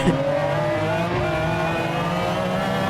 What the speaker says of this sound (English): driving a McLaren